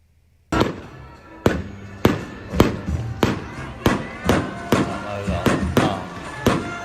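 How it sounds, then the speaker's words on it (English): A recorded fireworks show played back, a run of about a dozen sharp booming bursts at irregular intervals, each ringing out briefly with crackle before the next, loud and fairly close. "I'll just play this briefly, though. It's the fireworks."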